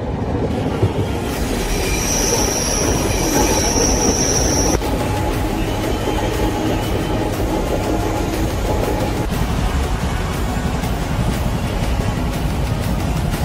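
The Gowthami SF Express passenger train rumbles loudly and steadily, its wheels clattering on the rails, with a high metallic squeal in the first few seconds.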